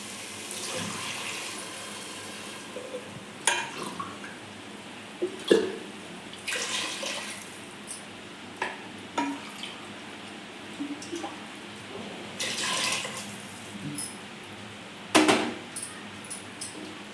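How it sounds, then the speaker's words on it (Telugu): Soft running water pours and trickles at a low level into a metal pot of rice, broken by occasional clinks and knocks of the pot, with no talking. "ఇది 2 కప్స్ అయితే 3 కప్స్ వాటర్ వేసుకోవాలి"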